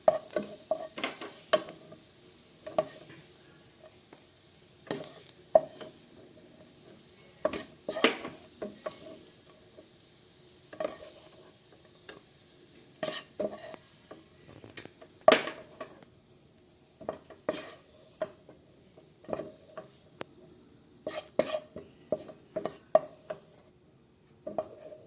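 Carrot and capsicum sautéed in a pan, heard as a faint background sizzle broken by frequent clattering spatula strokes and clinks against metal, coming in uneven bursts.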